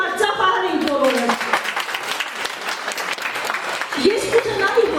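Audience applauding at a celebration, steady clapping throughout with voices and cheers mixed in, fairly loud and close.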